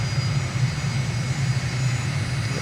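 An aircraft engine drones steadily in a flight simulator game, a loud, constant, even hum during the landing approach with no talking.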